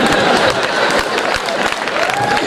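Loud, dense applause from a comedy show audience, many hands clapping continuously close up with some crowd noise and cheering mixed in.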